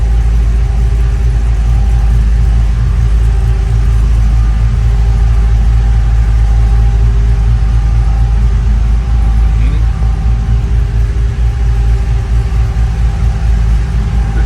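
Loud, steady rumble of a large supercharged car engine idling close by, a continuous low drone with a faint whine layered over it that holds for the whole stretch.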